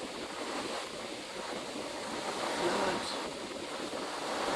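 Broadband wind and ocean surf rush steadily on the open sea from the deck of the Carnival Magic cruise ship under way, a continuous loud wash with no distinct breaks.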